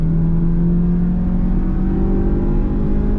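A high-mileage Mazda CX-5 with a 2.0 petrol engine pulls away on a test drive, its loud engine drone holding steady from inside the cabin.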